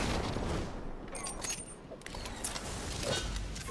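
Jötunn weapon firing in Destiny 2, a burst of booming energy shots over constant loud game noise, with a few sharp reports and explosive thuds spread across a few seconds.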